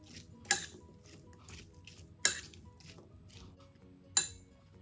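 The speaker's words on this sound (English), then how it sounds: "And stir all these together" Diced apples tossed with fresh lemon juice in a bowl, a spoon clinking sharply against the bowl three times at even intervals amid soft wet stirring, close and fairly quiet.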